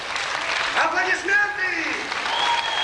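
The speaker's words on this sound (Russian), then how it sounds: "Аплодисменты!" An audience claps at a philharmonic concert hall show of stage feats and fakir acts, a dense, steady wash of applause mixed with a loud, sustained announcer's voice.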